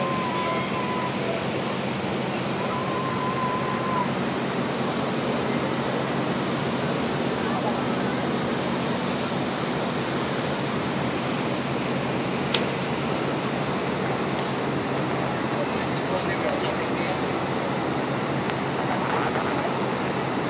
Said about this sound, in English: it's hitting them waves